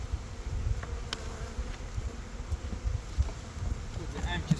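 Honey bees buzz steadily around hive frames during spring colony management, a close continuous drone with faint handling noises.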